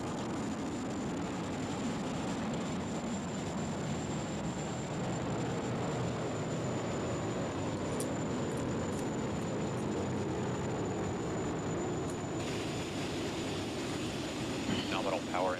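A Falcon 9 rocket carrying Crew 8 roars during ascent as a steady, broad rumble throughout, heard distantly and mixed with commentary voices.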